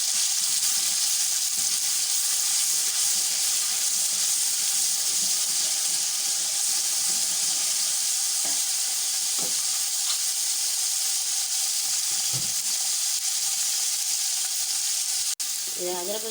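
Steady, loud sizzling of ginger and garlic frying in a hot pan, with occasional soft clinks and stirring sounds.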